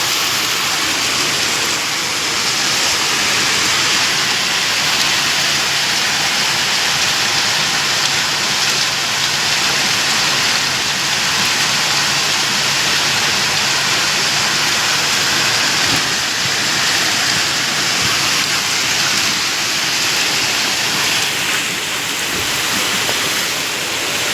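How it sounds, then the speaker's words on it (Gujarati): Steady, dense downpour roaring evenly throughout, a continuous loud wash of heavy rain with no voices. "વરસાદ ફૂલ પર આખું ચાલુ થઈ ગયું વરસાદ"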